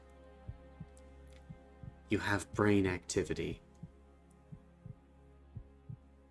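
Heartbeat sound effect in a tense sci-fi scene, steady low thumps pulsing about once every half second throughout, with a brief stretch of speech in the middle over the beats and a constant low hum beneath.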